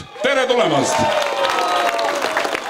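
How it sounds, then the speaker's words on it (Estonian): Applause from an audience at a grilling festival rolls on steadily beneath a loud announcer's voice, a dense wash of clapping from a sizable crowd. "Ma palun nüüd natukene tugevamat aplausi."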